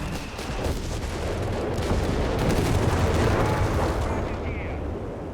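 Bishop self-propelled artillery bombarding in Company of Heroes 3, a continuous rumble of shell fire and explosions with layered gunfire, loud and dense, with a commentator talking over it.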